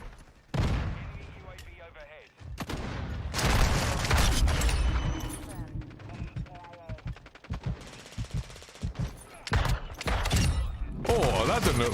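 Pistol fire in the video game Call of Duty Modern Warfare 2, with loud repeated shots and bursts in an uneven rhythm, mixed with other game noise and someone talking over it.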